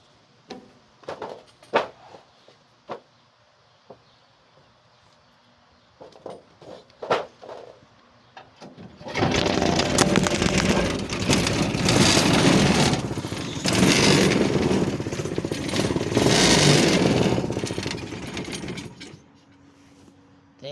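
A go-kart engine is heard after a stretch of quiet handling sounds, then it runs loud and steady under throttle for about ten seconds before cutting off abruptly.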